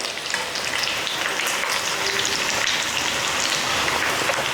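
Kova anchovy fish frying in a pan until golden, a steady, close hiss of sizzling oil that continues evenly throughout with no talking.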